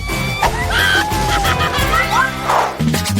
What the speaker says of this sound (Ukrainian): Яєчня впала мені прямо на обличчя.